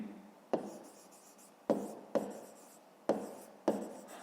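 Pen writing by hand on paper for a maths exercise, with five sharp scratchy strokes, each starting crisply and fading out. Close, quiet and alone, with no talk.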